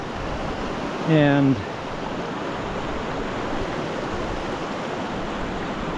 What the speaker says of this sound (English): we got some rapids up ahead